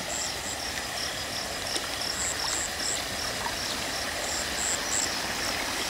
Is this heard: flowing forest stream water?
yes